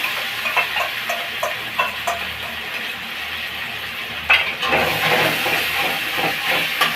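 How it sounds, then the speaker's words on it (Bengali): A ground paste of ginger, cumin, chilli, poppy seed and mustard hits fried onions in a hot pan, a steady hiss that surges into a louder, fuller sizzle midway and stays close and continuous. "এবার আমি এই পেঁয়াজের মধ্যে যে বাটা মশলাটা রেখেছি, আদা, জিরে, লঙ্কা, পোস্ত, একটু সর্ষে দিয়েছি, এই মশলাটা দিয়ে দিলাম।"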